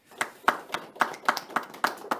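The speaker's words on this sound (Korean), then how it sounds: "큰 박수로 맞아주시기 바랍니다" Clapping at an academic housing and construction seminar comes as sharp, evenly spaced claps, about eight in a couple of seconds, close and fairly thin, as from a small audience.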